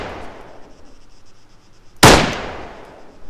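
A single sharp, loud gunshot from an M16 rifle in the Arma 3 RH M16/M4 weapons mod cracks out over quiet background rumble, followed by a short decaying echo.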